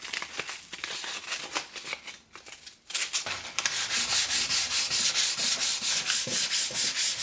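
Paper-backed sandpaper rubbed flat across wood: a steady gritty rasp, brief uneven scrubs first, then after a short pause a fast regular back-and-forth rhythm, close and loud with no talking.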